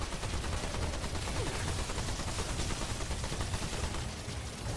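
Dense, continuous rapid gunfire in a video game, loud and unbroken throughout with no talk.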